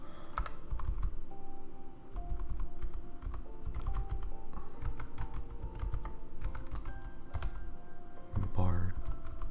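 Keys clatter in quick irregular runs on a new computer keyboard, close and fairly quiet, with a louder thump near the end.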